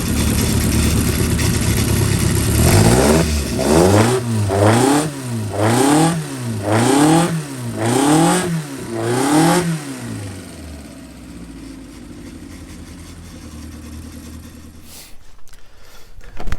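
A 998 engine on a dynamometer revs up and down in about six rhythmic, rising and falling bursts, loud and close, then settles back to a rough idle before cutting off.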